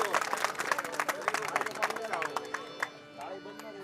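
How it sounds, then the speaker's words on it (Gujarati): An audience at a bhajan performance breaks into brisk clapping, a dense run of hand claps under a talking voice before tapering off at the end. "જોરદાર તાળીઓથી એકવાર એમને વધાવો"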